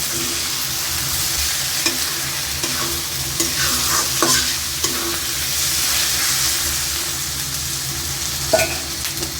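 Dal lentils sizzle steadily in a hot pan while being stir-fried, a loud continuous frying hiss with occasional scraping of a spatula, no talking.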